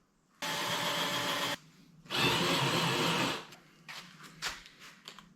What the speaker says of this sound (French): Percer au 4. Puis après percer au 8.